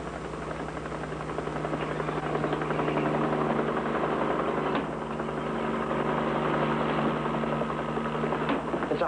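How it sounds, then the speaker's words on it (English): A highway patrol helicopter flies overhead, its rotor chop and engine drone loud and continuous throughout, with a steady throbbing hum and no pause. "It's a highway patrol copter."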